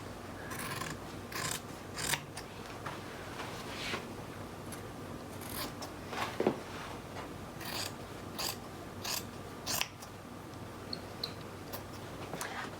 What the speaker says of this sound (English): I'm gonna trim the stuff down just to reduce the bulk.